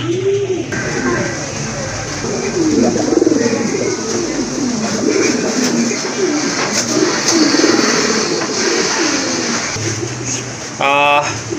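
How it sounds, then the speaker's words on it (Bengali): Pigeons kept for breeding at a market stall coo repeatedly in low rolling phrases, close and fairly loud, while people talk nearby over a steady background hum. "ডিম বাচ্চা করানো কবুতর"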